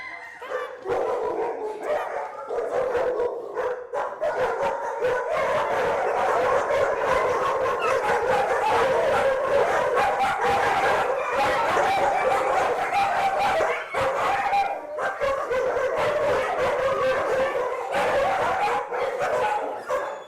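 Several dogs in an animal control shelter bark, yip and howl continuously and loudly throughout, a dense, echoing chorus with no pauses and no talking.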